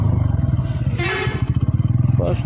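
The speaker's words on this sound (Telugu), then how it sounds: "మన బండి ఇప్పుడు కర్ణాటక రోడ్ల మీద నడుస్తున్నది" Bajaj Pulsar motorcycle riding on a road in Karnataka, its engine thrumming in a steady pulsing rhythm close by, with a brief bright whine or horn-like tone in the middle.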